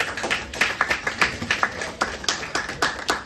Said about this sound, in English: round of applause for the single mothers